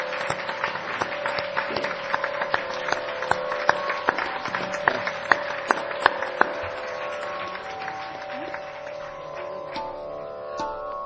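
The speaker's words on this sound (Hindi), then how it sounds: "तो तालियों की गड़गड़ाहट से इनका स्वागत करिए।" An audience at the Sri Dutt Jayanti Mahotsava celebration in a temple claps to welcome an honoree, a dense steady wash of applause with sharp rhythmic claps cutting through above a sustained tone, fading slightly at the end.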